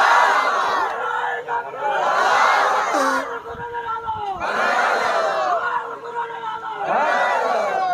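A large crowd at a Bangladeshi religious gathering roars a loud collective chant of takbir in repeated swelling waves, many voices shouting together close and full, with brief dips between bursts.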